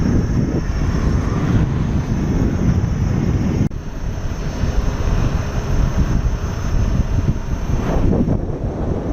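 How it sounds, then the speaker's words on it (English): Strong wind buffeting a rider on a moving motorcycle, a loud continuous roaring rush that stays steady throughout with one brief drop partway, no voices. "As you can imagine, it's windy as well. Getting bounced around pretty good here."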